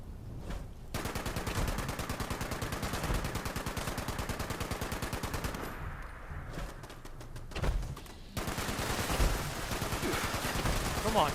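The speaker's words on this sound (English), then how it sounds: "You got that explosive minigun, let's go." An explosive minigun in Fallout 76 roars in a loud, dense stream of rapid shots that runs almost the whole time, with a short break near the middle before firing resumes.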